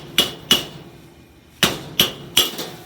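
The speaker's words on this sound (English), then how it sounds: "I may have to get my metal hammer here to kind of chip that." Metal hammer chipping apart burger patties stuck together on a grill, five sharp, loud knocks in two groups with a pause between, no talking.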